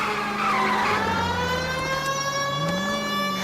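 Car chase in L.A. Noire: a steady, loud engine drone with rising and falling pitch and tire squeals, continuous throughout without talk.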